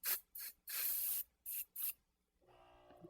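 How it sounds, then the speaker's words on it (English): Several short hissing bursts from a spray can onto a fabric seam allowance, one longer spray in the middle, followed by a faint rustle. "just spray the seam allowance"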